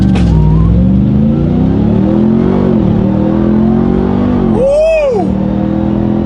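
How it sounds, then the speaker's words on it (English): A supercharged Ram TRX Ignition Edition pickup launches hard using launch control, its loud engine note climbing through the revs, briefly dipping, then rising again with a sharp whistling sweep near the end, while a voice talks over it. "So we're gonna push the launch button, apply brake pressure."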